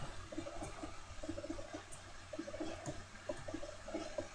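Repeated blocky wooden thumps of a Minecraft ladder being climbed in the 12w38a snapshot, irregular clacks spread across the clip over a steady low hiss, moderately quiet with no talking.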